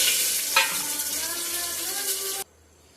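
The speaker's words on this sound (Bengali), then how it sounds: "কুকারটাকে গরম করে নিয়েছি এবার দেব অল্প একটু ঘি দেবো বেশি দেব না যেহেতু খুব গরম পড়েছে এবার আমি দিয়ে দেব গোটা মশলা ফোড়ন" Whole spices dropped into a little hot ghee in a preheated pressure cooker, a loud bright sizzle and crackle that runs steadily for over two seconds, then cuts off abruptly.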